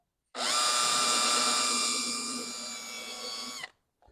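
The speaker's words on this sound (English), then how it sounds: "And let's go ahead and drill that." A power drill boring a shallow hole in a soprano ukulele kit whines steadily at high speed for about three seconds, loud and close, then winds down and stops, followed by a brief click.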